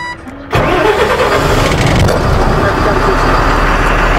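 A Tata 4825c BS3 truck engine cranks briefly and catches on the first try, then settles into a loud, steady diesel idle close by.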